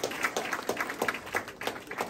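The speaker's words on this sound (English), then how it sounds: "Can we get a round of applause?" Scattered applause from a small audience at a military cadet gathering, a loose rhythm of individual claps that stays steady and moderately close.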